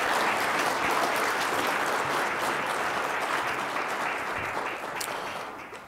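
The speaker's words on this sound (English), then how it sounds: "Round of applause for those folks." Sustained applause from a forum audience honoring a class of ambassadors, broad and even clapping that holds steady before tapering slightly at the end.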